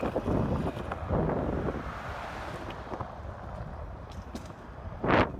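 Wind buffeting a microphone while riding a scooter fast down a street, a steady rushing roar with gusty swells and a louder blast of wind near the end, no talking.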